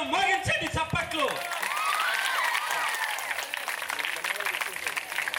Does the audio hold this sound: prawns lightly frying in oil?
no